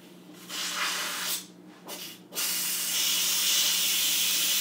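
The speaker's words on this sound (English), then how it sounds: "And you can see the steam going." Steam hisses loudly in bursts, cutting out briefly twice before resuming as a strong, continuous spray.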